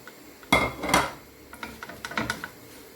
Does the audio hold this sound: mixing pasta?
yes